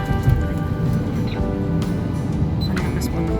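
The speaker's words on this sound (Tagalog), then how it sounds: "Ang lakas po ng ulan." Heavy rain pours steadily outside, a dense, loud, continuous hiss of drops on surfaces in Singapore, with no break across the moment.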